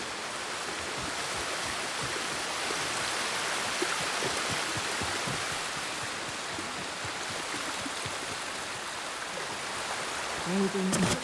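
Hot spring water in the Ghost of Tsushima game: a steady, full rushing and splashing wash of water running unbroken throughout, with a brief low rumble near the end.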